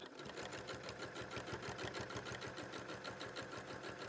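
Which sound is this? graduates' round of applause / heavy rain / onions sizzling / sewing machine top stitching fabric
sewing machine top stitching fabric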